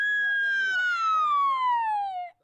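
A boy imitates an ambulance siren with his voice, producing one long, clear, sliding wail that falls steadily in pitch and then cuts off, close and alone against a quiet background.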